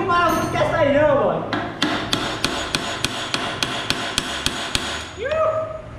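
Hammer blows on motorcycle clutch springs, a 150 spring set being fitted to a Pop 110i, ring out as about a dozen sharp metallic strikes in steady rhythm, with brief talk and a squeal before them.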